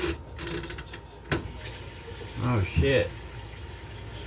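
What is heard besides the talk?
washing machine filling with water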